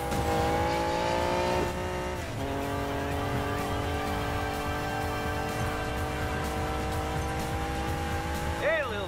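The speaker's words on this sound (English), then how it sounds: "Better hurry, engines are revving." Race car engines drone and rev steadily in the video game Need for Speed Payback, a continuous loud multi-car roar with shifting pitch and a tire squeal near the end, with talk over it.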